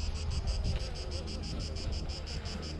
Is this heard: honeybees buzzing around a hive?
yes